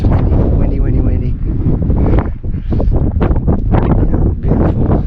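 Strong wind blowing across a mountain traverse, loud gusty buffeting on the microphone throughout, with a voice talking over the roar.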